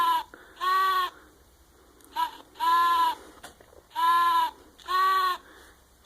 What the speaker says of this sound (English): owls make the who sound like this.